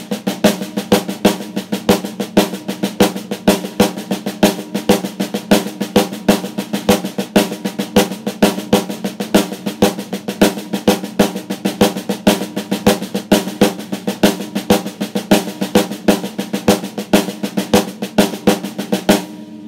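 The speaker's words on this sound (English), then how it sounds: "we're going to take the 5-note pattern of clave, but we're going to maintain an alternating pattern with the accents" A drum kit plays the five-stroke clave figure on the snare with accents alternating between the hands, steady sharp strikes repeating evenly and loudly with no voices.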